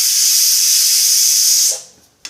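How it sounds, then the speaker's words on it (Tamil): A pressure cooker whistle blasts steam in a loud, steady hiss for under two seconds while Tamil dishes cook, then cuts off sharply, followed by a brief faint click. "இப்போ இது ஒரு விசில் வந்துடுது"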